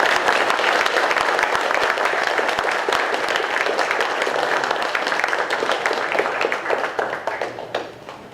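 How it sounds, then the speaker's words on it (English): An audience at the Virginia Bigfoot conference claps in a dense, sustained round of applause that stays loud throughout and begins to thin out near the end. "he deserves a big round of applause"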